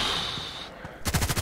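A rapid burst of Kriss Vector SMG gunfire from the video game Contract Wars, close and loud, fires in quick regular shots after a brief fading tone.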